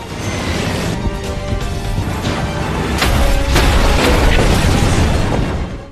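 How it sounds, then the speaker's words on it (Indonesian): A helicopter crashes into a bridge and explodes: a loud, sustained roar of crashing and explosive bursts, with sharp booms and debris-like clatter rising in intensity before cutting off, in an action film. "Saat sang pilot berusaha kabur, dia malah menabrak jembatan dan helikopter itu pun meledak"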